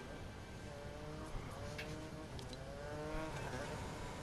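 A car in the Fortnite video game drives past with a rising and falling engine tone over a steady layer of game noise and a few brief clicks, moderately close.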